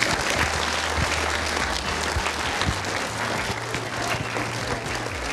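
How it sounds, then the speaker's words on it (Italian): An audience at a live regional show in Torre de' Passeri gives a final round of applause, dense and steady for several seconds, filling the space evenly with no talk. "Lo facciamo un ultimo applauso a Chiara?"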